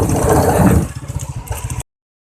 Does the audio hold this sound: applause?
no